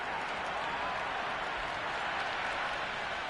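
Dense crowd cheering and roar from a cricket video game, part of an E-PSL Multan Sultans versus Karachi Kings match, a steady loud wash of sound with no break throughout.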